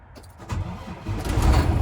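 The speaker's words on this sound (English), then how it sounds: "And a truck that starts" Semi truck diesel engine cranking and catching, rough low rumble building to a loud idle close by, no talk over it.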